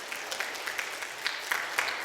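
Congregation applauding during a Friday night church worship service, a steady wash of many hands clapping at moderate distance with a few sharper claps standing out.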